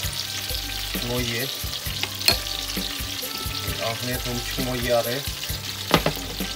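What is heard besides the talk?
food frying in a pan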